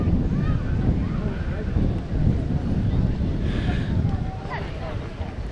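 Wind gusts buffet the microphone at an outdoor athletics track during a 1500m race meeting, a loud, rumbling roar that rises and falls continuously with faint distant voices underneath.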